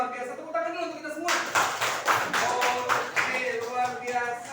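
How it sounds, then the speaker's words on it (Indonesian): A class of students clapping in applause, a burst of many hands that starts suddenly and continues steadily at moderate volume to the end. "Tepuk tangan dulu untuk kita semua."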